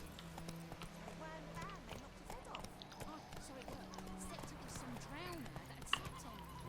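Hooves of the horse Roach clop along in The Witcher 3, a steady rhythmic gallop under a speaking voice and background game music, fairly quiet overall.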